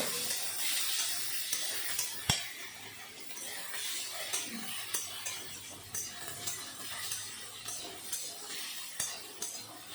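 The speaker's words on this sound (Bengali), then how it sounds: "এখন সজনে ডাঁটাও ভেজে নেব" Drumstick (sajna) stalks fry in a pan for a fish curry, giving a steady close sizzle broken by repeated clinks and scrapes of a utensil stirring against the pan.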